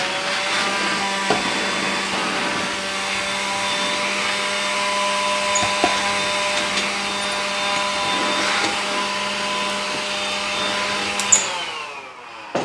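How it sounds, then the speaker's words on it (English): Small handheld Dust Buster vacuum sucking up fly-tying trimmings, a steady close whine running continuously for about eleven seconds with faint rattles of debris, then switching off and spinning down. "get my little dust buster out and clean up just a little bit because I got trimmings everywhere"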